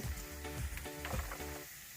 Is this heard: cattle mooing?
no